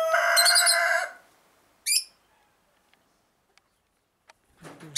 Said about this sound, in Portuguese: É um galo, estão a ver?